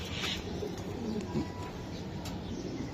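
A racing pigeon at a club racing loft gives soft, low cooing, faint and fairly steady over a gentle background hum, with no voices.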